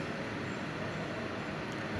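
An airport rail link train pulls into a station platform with a steady, loud rumble and wheel hiss that holds evenly throughout, with no voices.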